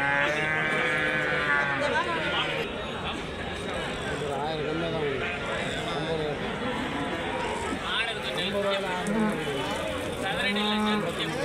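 Cattle at the Karimangalam cow market in Dharmapuri district moo repeatedly, long drawn-out lowing calls overlapping from several animals near and farther off, amid constant crowd chatter and voices.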